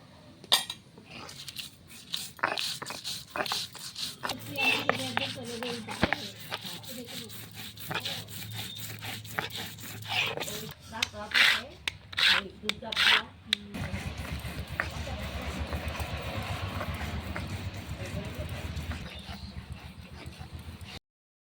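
Garlic, black cumin and green chillies are crushed on a grinding stone in rhythmic rubbing and scraping strokes, close and gritty, with stone knocks between passes and a steadier grind toward the end.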